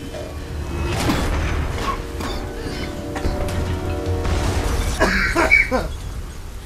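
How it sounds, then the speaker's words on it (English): A man coughs sharply a couple of times, close and loud, over the ongoing music and ambient sound of a Tomb Raider game. "I got scared. And I coughed at the same time."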